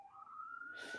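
A police siren wails outside, a steady rising tone held at moderate loudness, then swamped by a burst of broad hissing noise near the end.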